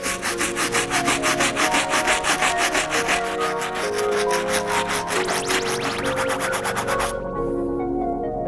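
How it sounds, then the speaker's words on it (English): A stiff bristle brush scrubs the rubber outsoles of a pair of Jordan 11 sneakers during a restoration, a steady rapid back-and-forth rasping that stops near the end, close up with no talking. "All done scrubbing the outsoles using the stiff bristle brush."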